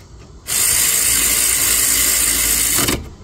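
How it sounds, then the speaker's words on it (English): A ratchet wrench spins rapidly on a front brake bolt, a loud, continuous close-up buzz of clicking pawl lasting a few seconds, then stopping abruptly. "start it up, another bolt, start it up, reverse this ratchet"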